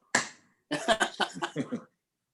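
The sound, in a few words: slow clap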